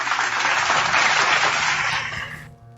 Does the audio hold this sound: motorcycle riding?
no